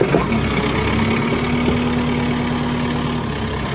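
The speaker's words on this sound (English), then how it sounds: "So let's go over here with the tractor" Tractor engine idling steadily on a farm before disking and seed spreading, a continuous low rumble with a steady hum, close and fairly loud, no talking.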